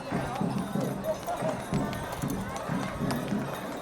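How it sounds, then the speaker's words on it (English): Horses walk in a Christmas parade in Wampum, their hooves clip-clopping in a steady rhythm on the street, close by, while a voice talks over them. "Got to have horses in a parade"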